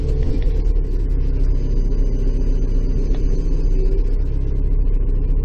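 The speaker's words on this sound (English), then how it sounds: "So we let her idle for a minute or so. It's a turbocharged unit" A turbocharged truck engine idles in snow in Bay Roberts, Newfoundland, a steady low rumble holding constant and fairly loud throughout, with no voices over it.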